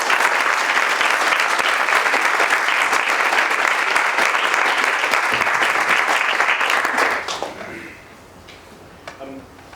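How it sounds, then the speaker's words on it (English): Hall audience at a divinity opening lecture applauding prize winners: dense, loud, even clapping for about seven seconds, then thinning into a few scattered claps and quiet room noise. "So I think a round of applause once again for all of them."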